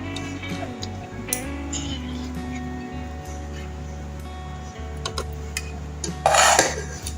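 Metal utensils clink and scrape against a pot as mutanjan sweet rice is scooped out, with sparse close knocks over a steady low background hum and a louder clattering burst near the end.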